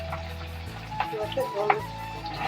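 Fish frying in oil in a Bengali kitchen gives a steady sizzle under a low tonal hum, broken by a few brief clatters as the pieces are moved about.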